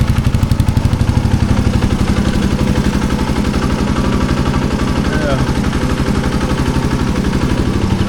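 A 1990 Suzuki DR250s dual-sport motorcycle engine idles steadily close by, a loud, even low-pitched chug with a rapid regular pulse that holds throughout.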